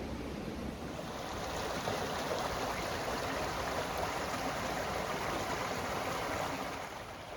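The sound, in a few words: babbling brook, flowing water in a valley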